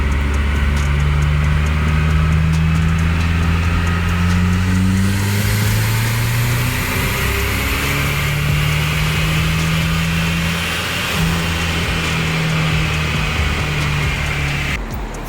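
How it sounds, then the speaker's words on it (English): A turbocharged SVO engine with Holley EFI makes a full dyno pull at about 8 PSI of boost: a loud, continuous roar whose engine tones hold and shift throughout, with no voices. "All right, so first pull of the SVO, should be about 8 PSI of boost."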